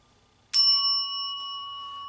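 A single bright bell ding strikes after a moment of silence and rings on with a clear, sustained metallic tone.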